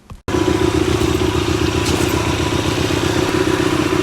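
A motorcycle engine idles loud and close right after an oil change, cutting in abruptly after a brief quiet start and then holding a steady, throbbing rumble with a rapid, even pulse, no voices heard.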